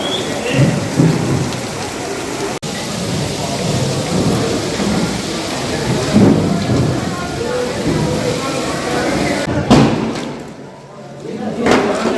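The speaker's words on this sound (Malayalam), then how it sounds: "അടിപൊളി മഴ" Steady, loud rainfall hisses throughout, with low rumbling underneath and a sudden dip near the end before the downpour returns.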